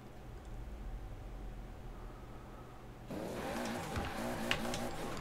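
Toyota Supra drifting through a corner in third gear in Forza Horizon 4, a steady engine drone that swells louder halfway through as the car slides, with rising revs and tyre noise, no talk.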